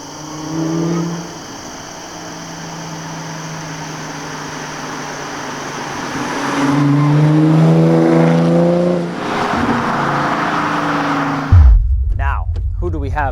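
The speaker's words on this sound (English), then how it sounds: "you might be hearing the whine from that immense supercharger" A supercharged 3-liter V6 Audi S4 with a pulley upgrade and cold air intake revs repeatedly, its engine note rising and falling with a whining edge, loud and close, while someone talks over it.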